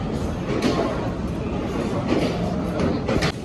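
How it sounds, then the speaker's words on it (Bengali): The Netaji Express 12311 on the Howrah to Kalka line rolls into a station platform, a steady rumble of wheels and carriages with occasional rhythmic clanks, loud and close. "দেখুন কত সুন্দর ট্রেনটি চলে আসলো প্ল্যাটফর্মে"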